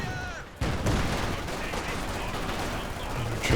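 Sniper rifle and anti-tank gun fire in Company of Heroes 2, a dense continuous battle din of shots and blasts filling the clip after a quieter opening, with faint voice underneath.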